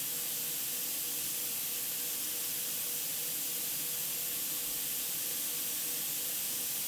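Steady, even hiss of an airbrush spraying paint runs continuously without a break, close and fairly quiet.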